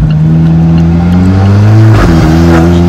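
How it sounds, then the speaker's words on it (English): Alfa Romeo 4C turbo engine revving loudly from inside the cabin, with a strong rising droning tone that climbs, dips around a gear change and picks up again, the turbo spooling close behind the seats. "The turbo spooling is like right behind my head."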